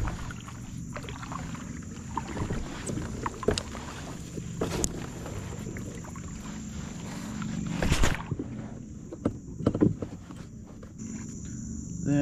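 A kayak paddles through shallow water at sunrise, with irregular dips, splashes and knocks from the paddles close by over a soft outdoor background, no talk.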